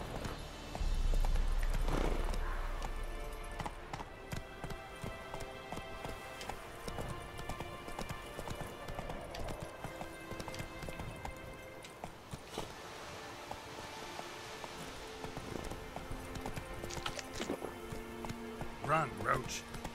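Hooves of the horse Roach gallop in The Witcher III, a quick, continuous clip-clop running through the whole stretch, with someone talking over the game sound.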